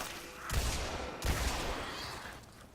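Two sharp hand cannon shots in the Destiny video game, about 0.7 s apart, each a loud percussive crack with a short ringing tail, set against steady game ambience.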